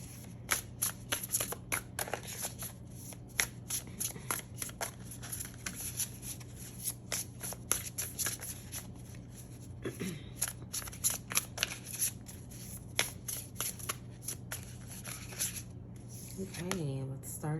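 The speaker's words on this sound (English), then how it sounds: "we are going to be shuffling and pulling cards as we go" Tarot cards are shuffled close up for a long stretch in quick papery riffles and slaps, in uneven bursts with short pauses, over a faint steady hum.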